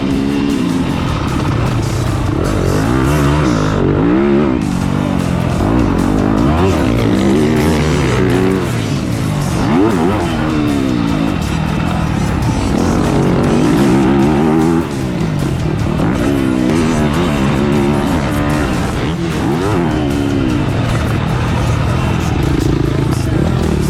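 Motocross motorcycles ride on a dirt track, their engines droning and revving loudly and continuously up and down, close by, throughout the whole stretch.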